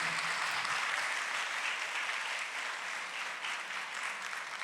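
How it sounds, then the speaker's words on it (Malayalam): Steady applause from an audience at a Brethren church assembly's testimony and talent evening in Bristol, a dense even wash of clapping lasting the whole stretch at moderate, slightly distant level with no voices over it. "അവർക്കൊരു നല്ലൊരു കൈയടി കൊടുത്തേ മതിയാകുള്ളൂ."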